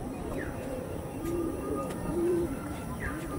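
Madras pigeons coo in soft, low rolling calls a few times against a steady background hum, fairly quiet and without voices.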